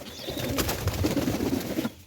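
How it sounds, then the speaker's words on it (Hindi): Pigeons coo softly and repeatedly close by, with low burbling calls over a steady background rustle. "इधर मैंने खोल दिया, सारे कबूतर बाहर आ रहे हैं जी।"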